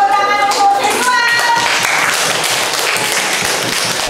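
A classroom audience claps for a presenting group, dense applause holding steady throughout with a voice speaking over the start.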